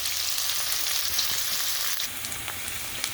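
Onions frying in hot oil in a karahi, a steady close sizzle and crackle that continues without a break, with no talk.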